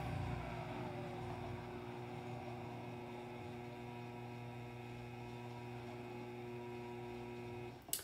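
A BFT gate operator motor running its auto-set open and close cycle, a steady low mechanical hum held evenly for several seconds before a brief clunk at the end.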